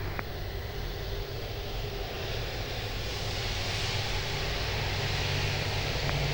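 A Transat airliner takes off from runway 02 at Lisbon Airport, its engines a broad, steady roar heard from a distance that swells slightly over several seconds, with no voices.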